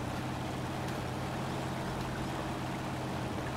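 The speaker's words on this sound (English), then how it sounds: "That's a pretty good looking waterfall there." Rushing waterfall and rapids in the Spintires off-road driving game: a steady, broad roar of churning water fills the scene evenly throughout, moderately quiet, with no voices.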